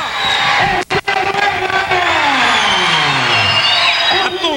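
A large crowd of He-Man fans cheering and shouting at a wrestling circus show in Crato, Ceará, a loud, dense roar with whoops and rising voices close around.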